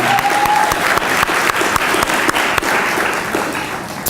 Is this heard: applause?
yes